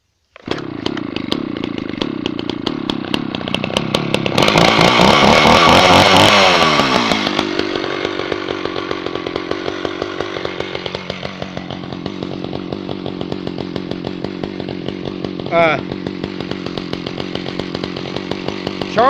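Several small chainsaws idle on their own, already warm, with a loud steady engine drone that swells into a brief revving burst near the middle, then settles back to an even idle with one short blip later.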